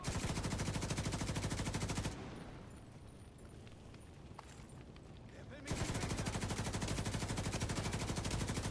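Rapid automatic gunfire in The Division 2 rattles loud and continuous, breaks off for a few seconds of quieter scattered sound, then resumes as sustained bursts.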